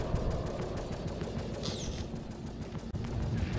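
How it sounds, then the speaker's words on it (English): Ship weapons firing in Star Citizen: a steady rapid stream of shots rattling over a constant engine roar, with a brief sweeping whine midway. "he's shooting at your Redeemer down there"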